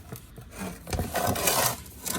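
A plastic underbody guard scraping and rubbing as it slides out from beneath a Dodge Charger Hellcat, a close, continuous grinding drag lasting about two seconds.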